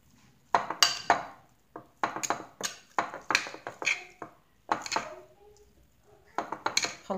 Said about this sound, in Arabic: كنخلطو هادشي مزيان